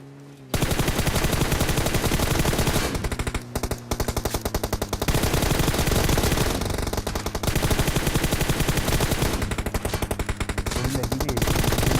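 Rapid automatic gunfire in the mobile battle royale game PUBG Mobile, dense bursts of machine-gun shots running almost nonstop and loud, with short gaps between volleys.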